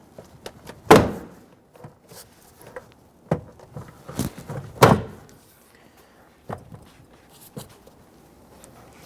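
Plastic clips pop and thunk as the rear door trim panel is pried away from the door shell of a 2007-2014 Cadillac Escalade, with several loud, sharp knocks spaced irregularly among smaller clicks and rattles.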